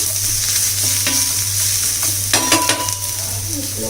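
Onions sautéing in a cast iron skillet give a steady close sizzle, with a few sharp scraping stirs near the middle and no voices.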